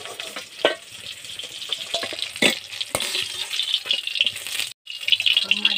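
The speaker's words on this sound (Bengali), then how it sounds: "মাছগুলো সব বন্ধুরা ভাজা ভাজা হয়ে গেছে, একদম কড়া করে ভেজেছি বন্ধুরা।" Fish that is frying crisp in a pan gives a continuous hissing sizzle close by, broken by clatters as the pieces are lifted out, with a brief silent gap near the end.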